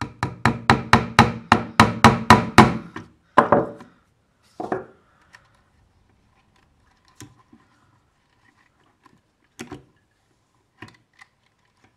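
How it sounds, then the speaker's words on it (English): Rapid run of about a dozen sharp hammer blows in steady rhythm at the start, then a few heavier separate strikes, followed by scattered faint taps and clicks among near silence, while cables for an arcade button and joystick setup are tidied. "And then use a hammer."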